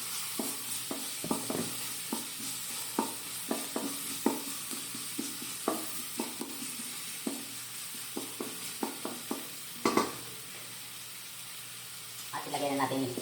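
Garlic sautés in cooking oil with a low, steady sizzle, punctuated by frequent scraping stirs and clinks of a utensil against the pan at a close, quiet level, with a louder clatter near the end.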